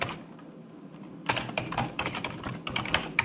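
Rapid keystrokes on a computer keyboard start after a quiet moment, clicking in irregular bursts at close range.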